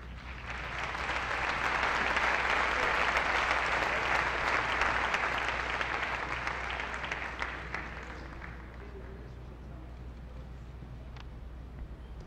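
Sustained applause from an audience at a ceremony marking 15 years of the CNDH's autonomy, honoring staff; the dense clapping swells, holds steady, then thins and fades toward the end.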